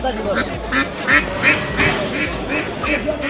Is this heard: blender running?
no